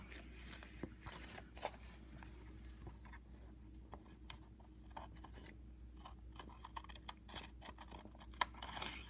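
Small scissors snip through paper while an envelope book is being made, giving faint, close, irregular crisp cuts over a quiet room background with no talking.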